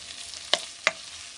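Onions and vegetables frying in a wok over medium-high heat, a steady soft sizzle broken by two sharp stirring scrapes or clatters, close and alone with no voices.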